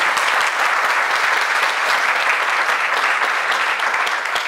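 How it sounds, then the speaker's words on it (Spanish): A church congregation gives sustained, dense applause during a Spanish-language service, loud and steady throughout with no break. "Denle un aplauso al Señor,"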